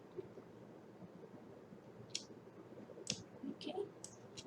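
Faint, sparse mouse clicks during picture editing in Photopea, with a few isolated taps and a small cluster near the end over quiet room noise.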